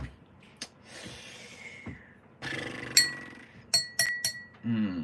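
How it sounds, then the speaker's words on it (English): A glass cup clinks in several sharp, ringing taps close by, clustered near the end, with soft breathing and rustling in between. "Glass cup."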